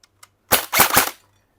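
An E&C M110 SR25 airsoft rifle fires on full auto, a short close burst of about three rapid cracks, with two faint clicks before it and quiet after.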